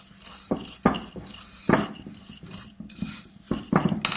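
Almond powder, sugar and breadcrumbs are stirred together in a bowl for an orange-soaked cake, with a spoon scraping and clinking against the bowl in irregular, fairly quiet strokes.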